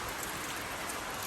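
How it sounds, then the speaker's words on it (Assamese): Heavy rain pours from an overcast sky as a steady, soft hiss, even and unbroken, with no voices. "ইমান বৰষুণ, ডাঙৰ বৰষুণ"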